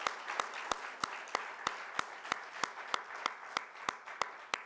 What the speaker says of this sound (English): let's one last time give him a round of applause this morning